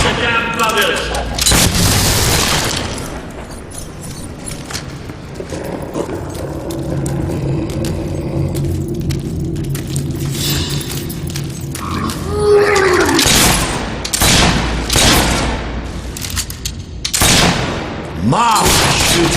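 Gunfire and explosions in the fantasy game Fable 3: booming blasts and volleys of shots in repeated bursts, loud and close, with a voice shouting at one point.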